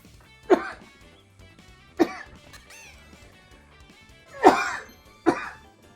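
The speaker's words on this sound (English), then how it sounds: "I hate the way I sound when I cough." A person coughs after something went down the wrong pipe: four harsh, separate bursts spread over several seconds, loud and close, with quiet background music underneath.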